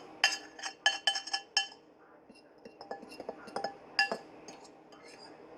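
Whole wheat pancake batter is mixed in a bowl, with a utensil knocking against the sides in bright, quick clinks that come in bursts and then softer scraping strokes, close and fairly quiet.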